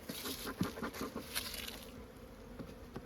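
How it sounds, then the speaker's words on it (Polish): Honeybees fly around beehives in an early-spring apiary, a faint buzzing drone with individual insects passing near and away, plus scattered light taps, no voices. "Pszczoły dzisiaj bardzo ładnie latają"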